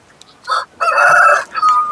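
A rooster crows loudly and close at a market, a single drawn-out call broken into a few bursts, with brief quiet gaps and no talking.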